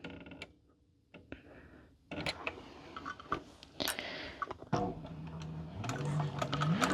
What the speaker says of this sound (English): I'm just gonna stitch around to sew those 2 layers together